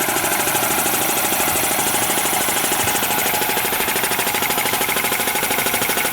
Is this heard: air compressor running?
yes